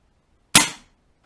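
A single sharp airgun shot fired in a studio during a loudness test. The crack is sudden and loud, with a short decaying tail, and silence before and after.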